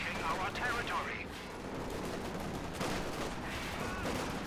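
MG34 machine gun firing in the Company of Heroes 2 video game, a dense rattle of battlefield gunfire at moderate level under a narrator's commentary.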